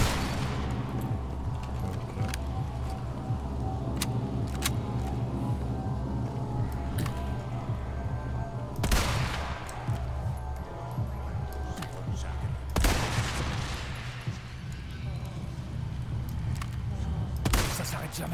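Gunfire in the video game Resident Evil 4: a few sharp, separate shots crack over a constant rumbling game background, spaced several seconds apart.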